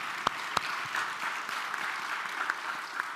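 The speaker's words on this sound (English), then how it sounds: "Please join me in giving applause to our panelists." An audience claps for a panel at an innovation event in Detroit, steady applause throughout with a few sharper claps near the start.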